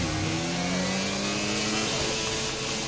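F1 car engine in the F1 22 racing game, revving with a faulty gearbox that struggles to shift gears; a steady, loud engine whine with shifting pitch lines runs throughout, with no talk.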